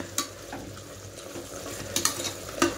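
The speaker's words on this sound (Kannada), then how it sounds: "ಇದಕ್ಕಿವಾಗ ಚೆನ್ನಾಗಿ ಮಿಕ್ಸ್ ಮಾಡಿ." Tomato gravy with coriander powder and chili powder being stirred in a pan, with a faint sizzle under scattered spoon scrapes and a few sharper clinks near the start and toward the end.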